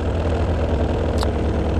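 Arctic Cat snowmobile fitted with an ADAPT clutch, its engine idling steadily with a low, even rumble close by, no other sounds over it.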